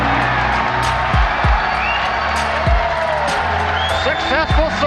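A dense crowd cheers and whoops loudly and steadily as Falcon Heavy side boosters separate during launch, with a few sharp shouts and whistles rising above the roar.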